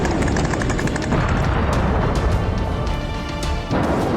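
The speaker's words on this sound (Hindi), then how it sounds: "आत्मघाती ड्रोन के हमले के चलते जोरदार विस्फोट हो रहे हैं" Heavy, continuous rumbling blasts and crashing booms from suicide drone strikes in the Russia–Ukraine war, loud and dense throughout with no pause between impacts.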